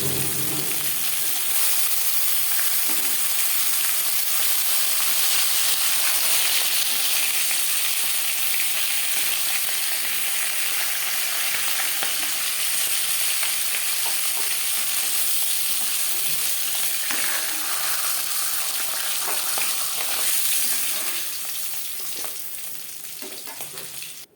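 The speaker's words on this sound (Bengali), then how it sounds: "মাছের মাথা ভাজা হয়ে গেছে তেল ঝরিয়ে একটা পাত্রে উঠে নেব" Continuous loud sizzling of a fish head frying in hot oil, a dense crackling hiss with occasional pops, steady throughout and fading slightly at the end.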